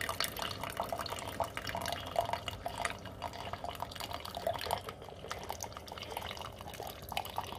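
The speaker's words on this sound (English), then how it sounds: "here comes the drip." A coffee maker drips freshly brewed medium roast coffee into a cup, a steady faint trickle and patter of liquid throughout.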